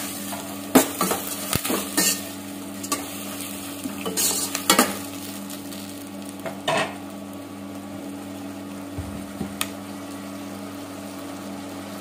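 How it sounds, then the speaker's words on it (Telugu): Chopped bottle gourd, brinjal and okra fry in a pan for ragi upma, a steady close sizzle broken by scattered scrapes and clinks of a spoon stirring against the pan. "ఇవన్నీ మంచిగా ఫ్రై కావాలి."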